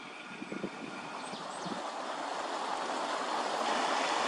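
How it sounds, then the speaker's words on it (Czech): Spring water runs into the Melč stream in a wooded valley, a close, continuous rushing flow that grows slightly louder toward the end. "Tady jsme u jednoho z pramenů, který teče do Melčského potoka."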